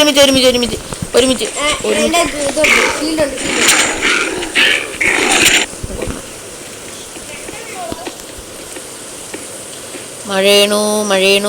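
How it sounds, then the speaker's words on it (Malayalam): In a video game, rain falls as a soft steady hiss. People talk loudly over it, and the rain is heard most plainly during a quieter stretch in the middle. "മഴയണു."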